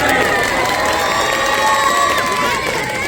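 At an outdoor kushti wrestling event, a dense crowd roars and cheers loudly, with shouting, whoops and some clapping blending into a continuous, close wall of sound.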